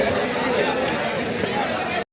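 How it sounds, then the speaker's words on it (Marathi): A dense crowd of tourists chatters at the Dandeli water activity site in Karnataka, a loud, steady hubbub of overlapping voices close by that cuts off abruptly at the end. "एवढी गर्दी आहे."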